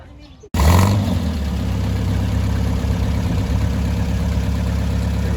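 A Morgan car starts up and drives out at an outdoor concours car show in Morro Bay, its engine catching loudly and then holding a steady, close, rumbling idle-like drone.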